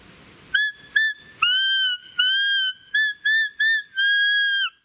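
A roe deer buck call of the Belblatt type, blown as a series of short and longer high, clear whistled bleats, a few quick ones followed by sustained tones, close and alone with no talking.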